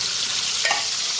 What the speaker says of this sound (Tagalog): Habang nagpiprito tayo ng isda,